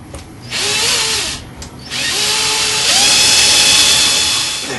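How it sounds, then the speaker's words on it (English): A power drill bores at an angle into plum wood during salmon carving, whining loudly in two bursts separated by a brief pause, with the motor pitch shifting under load. "just drilling at that angle."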